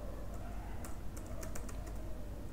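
Code is typed on a computer keyboard in a quick, uneven patter of soft key clicks, close but faint over a steady background hiss, with no talking.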